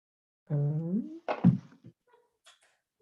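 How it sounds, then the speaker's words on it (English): A cat banging on a door indoors: a drawn-out voiced sound comes first, then one dull, fairly loud thump followed by a couple of faint taps and quiet. "there's a cat that's been banging on the door for the last hour"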